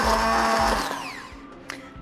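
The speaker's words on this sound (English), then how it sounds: "I'm going to use a hand blender and I'm going to whiz this up" A hand blender whirs loudly as it purees blueberries and lemon, its motor pitch sliding and winding down before it stops, followed by a small knock.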